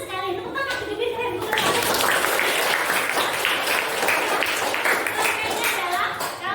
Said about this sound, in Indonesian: Tepuk tangan gede-gede keren.